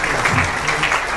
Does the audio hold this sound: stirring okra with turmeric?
no